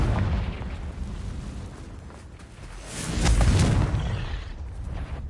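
A Confringo fire spell blasts in Hogwarts Legacy with a loud, rumbling burst that swells midway through and then trails off into a broad, roaring wash.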